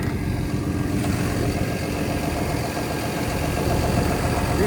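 Cummins diesel engine on a 2022 XCMG XE300U excavator idling steadily, a loud, even, low rumble close by with no speech over it.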